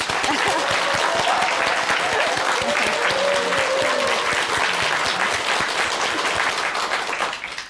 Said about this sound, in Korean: 박수로 청합니다